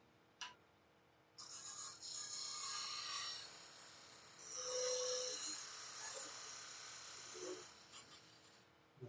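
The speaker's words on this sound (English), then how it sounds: "Tapering it just a tiny little bit." A woodturning lathe tapering a spinning piece of wood slightly, giving a steady, moderately loud scraping rasp of tool on workpiece that runs continuously for several seconds with brief pauses.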